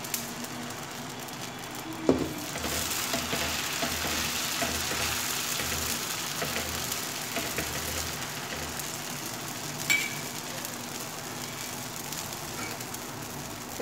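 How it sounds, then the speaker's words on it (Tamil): Mutton dosa batter poured onto a hot pan, a continuous low sizzle and hiss with a faint hum underneath and a couple of light knocks from utensils. "இப்போ தோசை ஊற்றிக்கலாம்."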